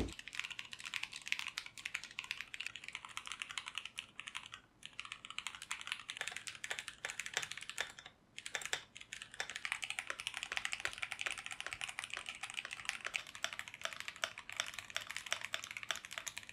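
Rapid typing on a computer keyboard at a home office desk setup, a dense stream of crisp key clicks with brief pauses, close and clear with no talking.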